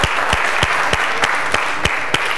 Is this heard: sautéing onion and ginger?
no